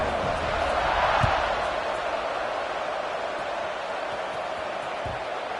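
A stadium crowd in an NCAA football video game just before kickoff, a broad, steady roar of many voices that swells slightly, then holds level.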